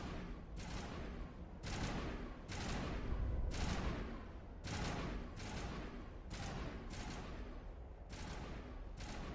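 Rapid repeated gunfire in Mass Effect Legendary Edition, about ten evenly spaced sharp bursts cracking out one after another at a steady rhythm over a low rumbling backdrop.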